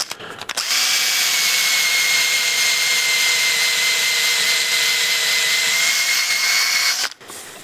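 A power sander with a soft interface pad works the surface of a turned wooden tray, a loud, steady high whine running unbroken for about six seconds, cutting off abruptly near the end.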